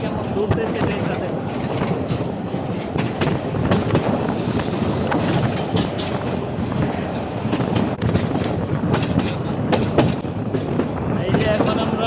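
Riding inside the Narayanganj commuter train on its century-and-a-half-old line, steady loud rumbling mixes with repeated clickety-clack wheel beats and occasional metallic squeals, continuous and close throughout.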